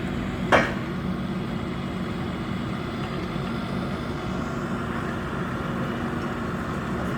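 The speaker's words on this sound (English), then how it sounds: "they're picking up rails and putting them down" A single sharp metallic clank rings out as workers pick up and set down railroad rails during track cleanup, heard over a constant rumble of machinery with no talk.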